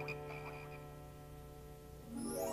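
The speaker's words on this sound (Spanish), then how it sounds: "Tú, haz que los sapos se vayan." Cartoon frogs croak in an animated Bible story about the plague on Pharaoh's Egypt, with short rhythmic calls early and a rising whooshy effect at the end, no talk.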